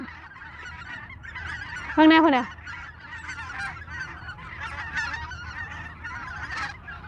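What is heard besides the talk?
flock of waterfowl calling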